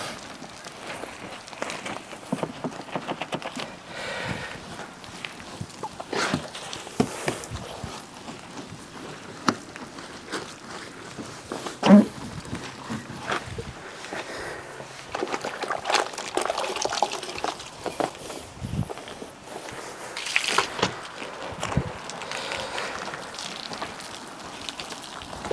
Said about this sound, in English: it is starting to rain on this vehicle